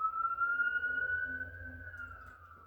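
An ambulance siren wails in a single long rising and falling tone, moderately distant and fading slightly as it passes, with low background rumble and no talk.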